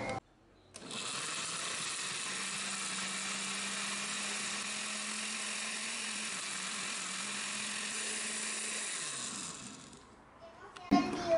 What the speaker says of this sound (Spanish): En total se estuvo licuando durante 2 minutos